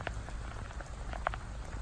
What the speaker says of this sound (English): I think I'm getting more rain on the camera than I am on my bike right now.